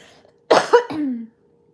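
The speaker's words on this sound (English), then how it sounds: "Hold on, I have to cough." A single close cough, a couple of quick bursts trailing into a throaty sound, in an otherwise quiet room.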